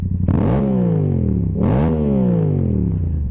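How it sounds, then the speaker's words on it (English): A motorcycle engine revved hard to full throttle twice, each rev climbing sharply in pitch and then winding down, loud and close with no talking. "Give it full throttle, just 1 or 2 times."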